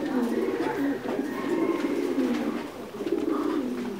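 Thai Titan meat pigeons coo on a farm, with layered, continuous low, throaty cooing from several birds close by. The calls swell and fade in repeated waves.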